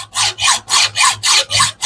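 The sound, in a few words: hand saw cutting wood for a mitre joint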